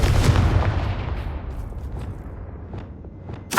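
A Confringo spell explodes in Hogwarts Legacy, a heavy fiery boom that hits loud at once and decays over a few seconds. A fresh burst flares near the end.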